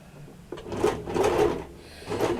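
A domestic sewing machine stitches over the strap of a small apron, a short run of whirring bursts with brief pauses between them, close and fairly quiet with no talking.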